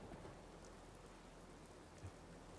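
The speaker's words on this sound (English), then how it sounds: "when you go in here and you can hear the rain on the roof" Rain drums on a roof in the video game Fallout 4, heard from indoors as a soft, continuous hiss and patter, faint and steady, with no talking over it.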